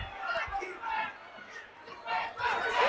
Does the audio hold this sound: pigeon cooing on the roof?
no